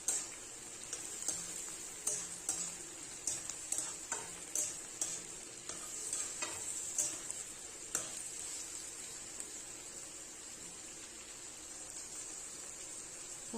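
Silkworm pupae sizzle in a pan over a steady hiss, with a run of sharp clicks and scrapes from stirring in the first half that thin out to a quiet, continuous frying.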